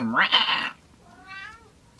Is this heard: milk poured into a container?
no